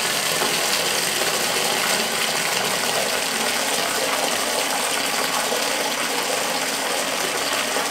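Water rushing steadily into a toilet cistern as its float valve refills the tank, a loud close continuous hiss and gush with faint mechanical rattling, no talk.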